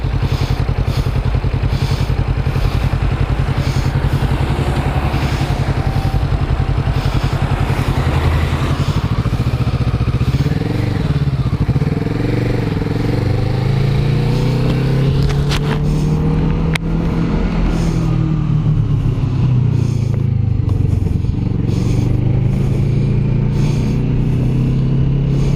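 Engine of a 2021 Kawasaki Vulcan S motorcycle heard while riding, a loud, steady rumble with rising and falling pitch as the rider shifts and accelerates, wind noise throughout, no talking.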